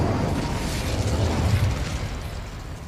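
An Incendio fire spell cast inside a goblin mine in Hogwarts Legacy, a rumbling fiery burst that swells and then fades over a few seconds, close and loud with no talking.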